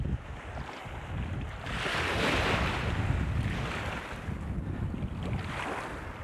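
Ocean surf rolls and washes in at a fishing spot near Augusta, Western Australia, with a broad, continuous rushing roar that swells in the middle and carries some wind noise.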